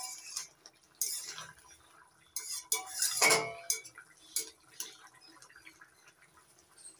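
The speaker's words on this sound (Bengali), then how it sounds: "নাড়াচাড়া করে ভালো করে মিশিয়ে নিচ্ছি চিনি" A spoon clinks and scrapes against a pan while sugar is mixed into a vegetarian flour curry, a quiet irregular run of metallic taps and one louder scraping burst, close with no voices.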